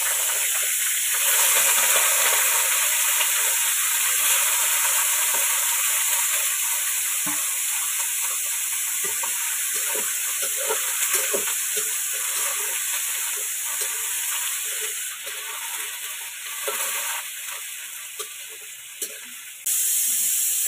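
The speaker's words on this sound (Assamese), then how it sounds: "এতিয়া মাংসখিনি যিহেতু পিঁয়াজখিনি ৰঙাকৈ ভাজ খাই গ'ল, এতিয়া দি দিওঁ মাংস।" Meat sizzles and fries in a pan with onions that have already been browned. It makes a steady, close hiss across the whole stretch, with scattered small stirring clicks and no talking.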